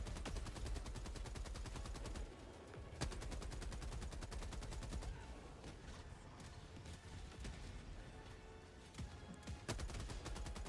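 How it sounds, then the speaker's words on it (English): Sustained automatic turret gunfire in the video game Helldivers 2 during a fight against bots, a dense, loud, rapid stream of shots with brief pauses and heavy impacts throughout. "that turret was shooting behind me"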